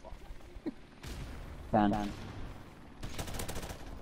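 AK rifle fire rattles in a video game, with scattered single shots and then a sustained rapid burst near the end, all mixed with loud shouting and a few spoken words.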